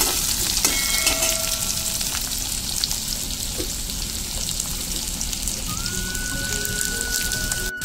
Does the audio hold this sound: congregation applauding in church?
no